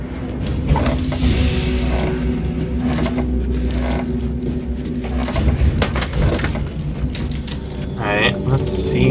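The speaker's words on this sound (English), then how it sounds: "And let's open this door." A door in the war-survival video game This War of Mine opens with a drawn-out creak near the end, following scattered clunks, thumps and rattling game noises.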